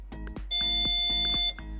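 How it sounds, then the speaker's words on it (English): A single steady electronic beep from a Tesla Model S trunk button, held to save the liftgate height, holds for about a second, ringing over a low hum and a few soft clicks. "press and hold the button until it beeps"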